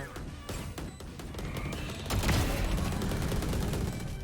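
Rapid gunfire sprays in Valorant, a tactical shooter match, dense overlapping bursts and shots carrying on throughout, swelling louder midway with crashing impacts and no speech over it.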